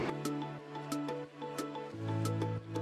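A spice paste mixed with water simmers in a covered pan, with soft, quiet bubbling and popping that is faint and close throughout.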